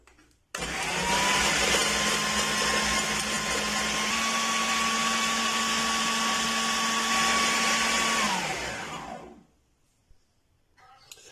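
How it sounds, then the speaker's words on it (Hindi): An electric chopper machine grinds bread crumbs in a continuous, loud motor whine with a steady pitch, cutting in abruptly, running for about eight seconds, then spinning down and stopping. "अब एक चॉपर मशीन ले लेंगे और ये जो हमारे पास ब्रेड क्रम्ब है वो इसमें डालेंगे"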